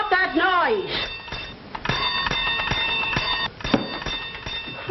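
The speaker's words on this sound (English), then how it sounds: "Oh, stop ringing that bell." A ringing bell, likely an alarm or fire bell, sounds steadily and loud with sustained metallic harmonics throughout, while agitated voices talk and shout over it.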